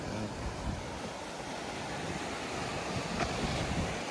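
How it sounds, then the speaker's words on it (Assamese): Steady rush of surf washing over a rocky shore at Rock Beach, Pondicherry, in early morning, a continuous broadband roar with faint wind noise and no voices. "ইয়াত বহুত ঢৌ আছে আৰু শিল আছে ইয়াত"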